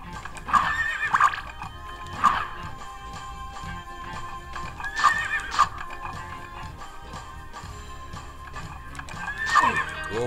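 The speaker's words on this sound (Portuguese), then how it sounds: "Cavalo sem metade do corpo," Horse neighs and galloping hoofbeats from the video game Castlevania: Symphony of the Night, several sharp whinnies recurring over about ten seconds above a steady clip-clop rhythm and game music.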